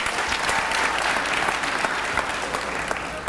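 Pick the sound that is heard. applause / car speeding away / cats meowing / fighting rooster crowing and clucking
applause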